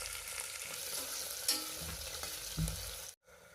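Chopped onion frying in hot oil with curry leaves while being stirred, a steady close sizzle with scraping stir strokes, a couple of louder clatters, and a brief drop near the end.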